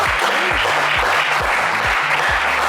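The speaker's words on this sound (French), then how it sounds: "On applaudit Ulysse, s'il vous plaît." Studio audience applauding a game-show contestant named Ulysse on a French TV show, steady dense clapping throughout with a low musical tone underneath.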